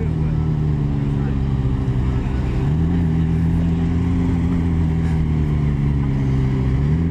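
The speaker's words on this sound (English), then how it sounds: "McLaren Senna versus Speed Bump." A McLaren Senna supercar rolls slowly over a speed bump, its engine giving a continuous, close, throaty drone. The pitch shifts briefly partway through as the car eases across.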